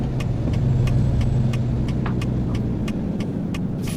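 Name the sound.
truck engine driving in American Truck Simulator video game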